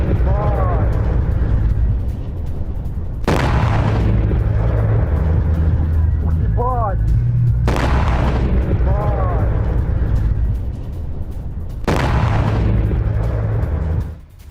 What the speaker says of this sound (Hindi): रिहायशी इमारत पर गिरती दिखी मिसाइल धमाके से थर्राया पूरा इलाका।